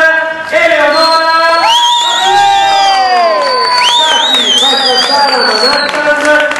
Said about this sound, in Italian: il vostro applauso per Eleonora